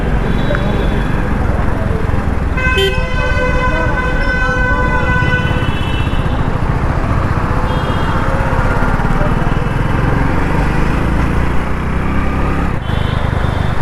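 A motorcycle engine rumbles steadily while riding on a road and downshifting at a speed breaker, with brief horn toots from nearby traffic cutting over the low, constant drone.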